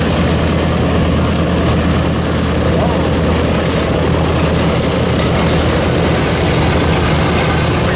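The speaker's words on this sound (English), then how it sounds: "The propellers on the B17 now, YouTube, are about to get moving." A WW2 B-17 bomber on display at Palomar Airport, its propellers starting to turn, produces a loud, continuous engine and propeller roar that fills the whole stretch at close range.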